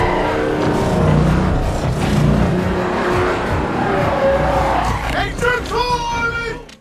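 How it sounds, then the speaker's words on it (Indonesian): A car arrives fast at an airport in a film scene, its engine roaring loudly with a rushing whoosh, then tires squeal in a sharp rising screech near the end under dramatic soundtrack. "Sesampainya di bandara, mobil Susan datang tepat pada waktunya"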